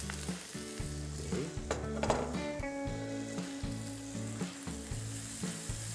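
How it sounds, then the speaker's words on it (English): Salted fish frying in ginger oil for a Cantonese dish, a steady close sizzle running under background music, with a brief spoken word. "So I just got the drippings of the ginger just so that we will cook our salted fish in this oil."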